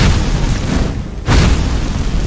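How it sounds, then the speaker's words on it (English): A flames spell cast at a spider in the Skyrim video game gives a loud, continuous roaring whoosh that briefly drops out and then surges back with a fresh burst. "I can probably like stand here and shoot flames at the spider"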